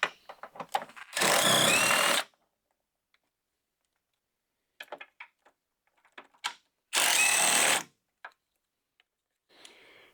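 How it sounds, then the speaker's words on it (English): Two loud, close bursts of about a second each from a power tool spinning out bolts on a Chevy Silverado GMT-800 passenger fender, separated by quiet clicks and small handling taps. "Now we're going to go ahead and remove these two bolts here."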